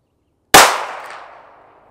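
A single sharp gunshot rings out from a Taurus 856 revolver at a shooting range. The loud crack is close and is followed by a decaying echo tail.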